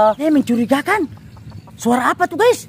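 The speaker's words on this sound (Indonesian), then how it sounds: "Ada ayam kampung teman-teman." Native village chickens cluck inside a chicken coop in short bursts, mixed in with a person talking.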